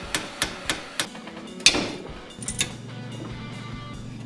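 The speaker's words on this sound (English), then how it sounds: "Hitting them with heat and a hammer really helped to bust them loose." Repeated metallic hammer blows on heated, seized tie rod ends ring out, four quick strikes then a harder clang and a few more, followed by a low mechanical hum.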